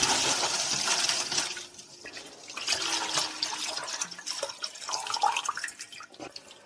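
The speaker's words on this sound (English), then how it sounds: "we gradually and gently add the strong moonshine," Strong kiwi moonshine is poured slowly and gently into purified bottled water, making a close trickling, splashing liquid sound that rises and falls over several seconds.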